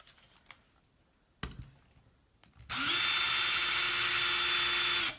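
A power drill with a cobalt bit spins up with a high, steady whine after some quiet handling clicks and taps, running loud for a few seconds before stopping.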